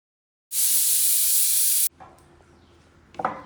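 A Prestige pressure cooker full of beef lets out one loud, steady burst of steam hiss lasting over a second, then quiet kitchen clatter follows.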